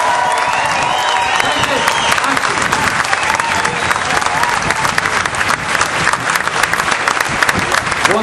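A crowd at the Fab Fourum gives Pete Best, former Beatles drummer, loud sustained applause and cheering, dense clapping with whoops rising over it, continuing strongly throughout.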